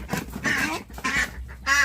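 Laying ducks on a Thai duck farm quack and honk in a pen, three loud bursts of calls near at hand with short pauses between, no talk over them.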